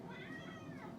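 A pet cat meows softly and faintly in a short, drawn-out call, alone with no talk.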